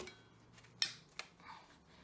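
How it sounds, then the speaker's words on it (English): Scissors snip through the rubber neck of a balloon while a stress ball is being made, two sharp close cuts about a third of a second apart in a quiet room. "Cut off the neck, put it carefully to the side."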